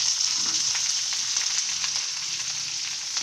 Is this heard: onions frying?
yes